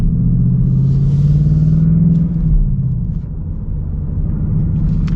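Ford Mustang Bullitt engine rumbling close by as the car pulls out at an angle, a loud deep idle that rises briefly under light throttle, then settles.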